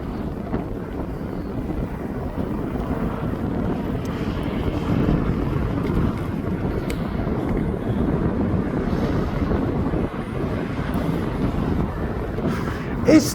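An aircraft taxiing at East Midlands Airport gives off a steady, broad engine rumble and roar, mixed with wind buffeting on the microphone, holding at a constant level throughout.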